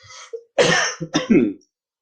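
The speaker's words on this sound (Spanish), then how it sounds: "si de pronto me escuchan tosiendo un poco, mis disculpas" One person coughs and clears their throat in a few close, harsh bursts during a virtual prayer and Bible study meeting, with a brief breath before them and silence afterward.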